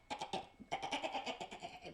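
A voice imitates a sheep's bleat in a rapid, wavering, nasal series of short pulses, close and fairly quiet, as part of a children's story.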